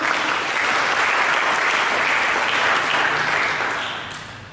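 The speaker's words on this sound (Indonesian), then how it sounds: "Mari kita sambut dengan tepuk tangan." Congregation at an Indonesian church service breaks into loud, sustained applause, many hands clapping densely and evenly before fading slightly at the end.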